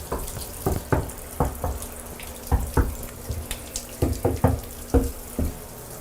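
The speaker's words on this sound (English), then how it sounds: "We'll typically add, if we have a drain stopper, 2-3 inches of water in there just to check we don't have a leak." Water runs into a bathtub during a home inspection to check the drain for leaks, heard as a steady splashing stream broken by repeated sharp knocks and clunks, close and fairly loud, with no talking.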